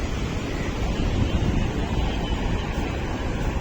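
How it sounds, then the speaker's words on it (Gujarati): Sea waves roll in at Jampore Beach in Daman, making a loud, continuous surf roar with wind buffeting the microphone and no voices. "શું મોજા ઉછળે છે."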